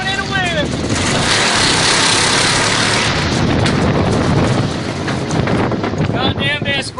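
Strong wind roaring across the microphone as a flag flaps during a truck ride around town, a loud continuous rush with engine rumble underneath and a voice briefly heard at the start and end.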